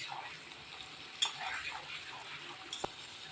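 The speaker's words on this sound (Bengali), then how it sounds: "বাদামটা আমার লাল লাল করে ভেজে নেব।" Peanuts frying in a pan until reddish for an Ekadashi chanachur snack, a steady soft sizzle with a couple of sharp ticks or pops near and alone.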